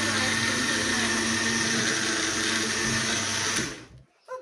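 A blender whirs loudly and steadily for several seconds while blending strawberry, banana and coconut dog ice cream, then cuts off abruptly, leaving brief quiet and a small clatter.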